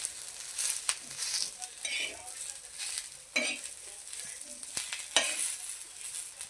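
Onion, coconut, ginger, garlic and chilli roast together in a pan for a Konkani chicken masala, with a light sizzle and repeated scraping stirs, some sharp spoon knocks against the pan.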